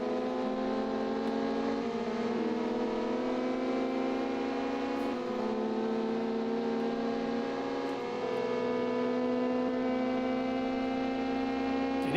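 A race car engine drones in the ARCS racing game, a steady buzzy tone with layered harmonics that shift in pitch a few times as it changes speed, continuous and fairly close with no talk.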